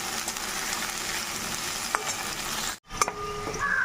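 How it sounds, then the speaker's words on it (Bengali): Carrots and capsicum fry in white oil in a large pan for fried rice, a steady close sizzle with a brief dropout and a couple of light utensil taps. "প্রথমে গাজর ভেজে নিচ্ছি ক্যাপসিকাম ভেজে নিচ্ছি"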